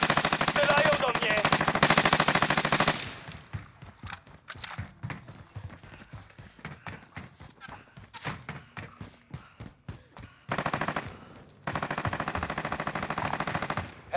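Gunfire in Call of Duty: Modern Warfare: loud sustained bursts open the clip, then a run of sharp, rapid single shots and short volleys, with heavy firing returning near the end.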